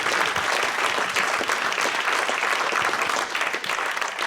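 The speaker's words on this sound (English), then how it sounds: "Another round of applause," An audience at a medical talk on radiation oncology claps for visiting doctors, a brisk, fairly loud burst of many hands lasting a few seconds, with no voices over it.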